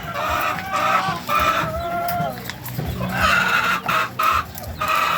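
A coop of 16-week-old RTL chickens, 96 head, clucking in close, overlapping bursts with occasional louder calls and steady background chatter from the flock.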